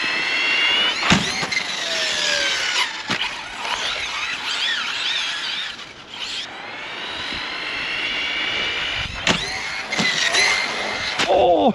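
An Arrma Fireteam RC truck runs a speed test outdoors on snow, its electric drivetrain whining loudly with rising and falling pitch sweeps as it accelerates and passes, punctuated by sharp clicks and bumps, with no voices.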